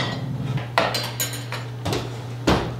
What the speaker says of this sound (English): the first thing I'm gonna do is put away all of our wash and dry dishes